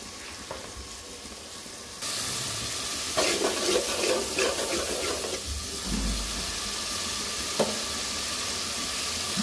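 Rohu fish with turmeric and chili powder sizzling steadily in a frying pan, a continuous close frying hiss with occasional scrape and stir sounds, no talking.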